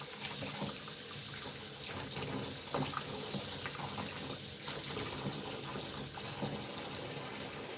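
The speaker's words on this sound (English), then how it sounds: "Let's get this knife out of the soapy water." Tap water runs steadily into a sink of soapy water where a knife is being washed, a continuous close splashing rush with faint clinks and no talk.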